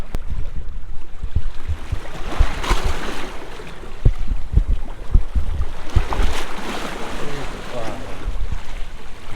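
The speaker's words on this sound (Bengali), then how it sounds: "এত ঢেউ আর এত বাতাস যে এখানে আমি ক্যামেরা রাখতে পারতেছি না" Strong wind buffets the microphone at a sea beach in Potenga, Chittagong, while waves surge and wash ashore in loud, rough bursts.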